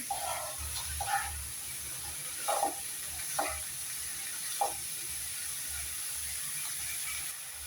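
Vegetables with onion greens and green chillies sizzle steadily in a frying pan, with a continuous hiss broken by several short stirring scrapes. No one speaks.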